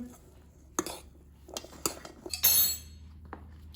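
Spoon stirring cilantro lime rice in a metal pot, a series of close, scattered clinks and scrapes against the pot with one brighter metallic ring partway through.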